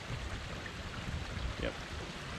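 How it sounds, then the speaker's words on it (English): Forest creek flowing beside a waterfall, a faint continuous rushing wash of water with soft broadband hiss and no distinct events. "We got a creek view with a waterfall. It's nice out here. Sound of the creek."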